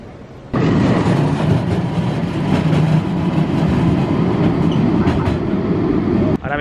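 A Porto metro train rolls across the upper deck of the Luis I bridge, a loud sustained rumble of wheels on rails that starts abruptly and holds steady close by, with faint crowd murmur beneath.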